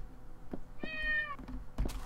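In the Minecraft game, a cat lets out one distinct, fairly close meow, with a few soft thumps before and after it.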